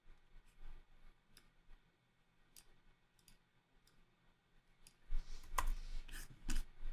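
Computer mouse clicks while saving settings in Google Ads: a few sparse, sharp clicks over a quiet room, then a denser cluster of louder clicks and handling near the end.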